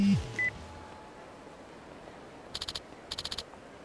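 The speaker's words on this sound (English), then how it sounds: "Oh, we got a phone call." An electronic phone ringing in Yakuza Kiwami 2: two short bursts of rapid trilling beeps after a couple of brief game tones, fairly quiet over a low background.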